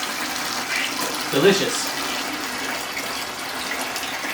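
Salt water rushes through a hose during an aquarium water change, a continuous broad hiss of running water with a brief gurgling splash partway through while a voice speaks briefly over it.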